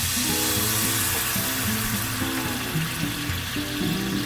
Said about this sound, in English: I'm gonna put water a little bit. Water add on a little bit.